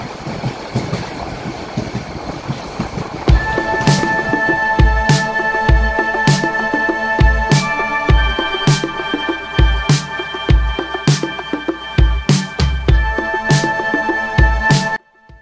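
The Cox's Bazar Express from Chattogram rolls past close by, its wheels hammering out a steady, rhythmic clickety-clack over rail joints under a continuous rumble, with no voices.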